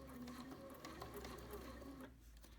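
A Bernina sewing machine back stitching a fabric tie for a face mask, giving a steady, close mechanical whir of rapid stitching that runs unbroken and then eases off briefly near the end.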